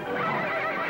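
A horse lets out a single close, loud neigh, a shrill wavering whinny lasting about a second.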